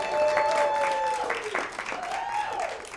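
A comedy club crowd at a Pride stand-up show gives a burst of applause that starts strong and thins slightly over three seconds. A voice carries on over the clapping.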